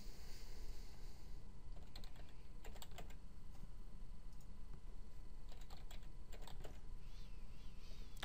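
Keys clicking on a computer keyboard as a password is typed, soft intermittent bursts of keystrokes over a steady low hum, with no talking.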